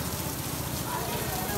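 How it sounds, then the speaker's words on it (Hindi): Steady rain falls with a dense, even hiss and patter, close and continuous, while a car is being parked. "माशाल्लाह से बारिश हो रही है और बहुत आउट क्लास मौसम हुआ है"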